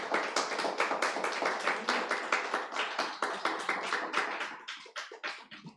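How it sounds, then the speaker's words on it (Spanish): A church congregation at a Sunday family service claps together in a fast, steady rhythm, dense and close, with loud claps continuing throughout and thinning slightly near the end. "a nuestro amado Jesucristo, para quien pido por favor un fuerte aplauso en esta mañana."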